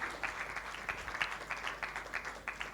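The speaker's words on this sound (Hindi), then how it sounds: "तो एक बार तालियों से, बहुत ज़बरदस्त तालियों से खड़े होकर हम इनका स्वागत करेंगे।" An audience applauds to welcome a guest, a steady stream of many overlapping hand claps at moderate distance, continuous throughout with no voices on top.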